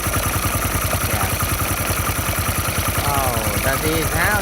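A Honda motorcycle engine runs at a steady idle with a fast, even mechanical clatter, close and continuous, while someone talks over it.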